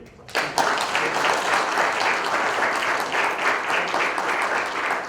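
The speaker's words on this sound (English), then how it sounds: "please join me to show our appreciation to all the members of the organizing committee by clap on the head" Applause breaks out from an audience at a closing ceremony honoring the organizing committee, starting abruptly after a brief quiet moment and continuing as a loud, sustained crowd clapping.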